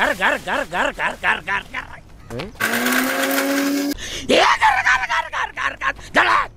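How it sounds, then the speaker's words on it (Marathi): A mixer grinder whirs loudly as it grinds garlic, coconut, ginger and curry leaves into a paste, one steady burst of just over a second set between stretches of people talking. "आता मिक्सरला वाटण काढतोय"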